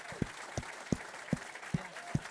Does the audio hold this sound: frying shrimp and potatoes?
no